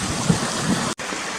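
A mountain stream rushes steadily near Cautley Spout waterfalls, a dense, even broadband wash close by, briefly cut off by a momentary dropout.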